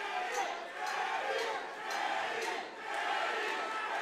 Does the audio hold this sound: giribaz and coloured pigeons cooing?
no